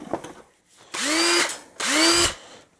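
A Makita 18 volt cordless drill gives two short bursts of whirring, each winding up in pitch and then cutting off, close and clear with a brief pause between the runs.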